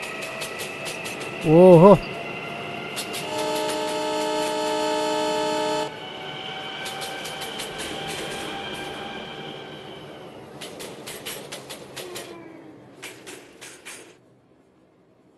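A Mumbai local EMU train in a mobile train game sounds a brief horn, then a long tonal electric motor whine and rhythmic track clatter that fade toward the end, with a short vocal exclamation near the start.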